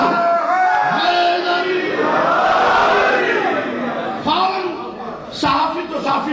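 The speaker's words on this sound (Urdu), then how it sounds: "ہاں نعرہ ہر طرف سے آنا چاہیے، ٹھیک ہے نا" A crowd at a religious majlis gathering shouts slogans together in a loud, sustained mass of voices with rising and falling swells.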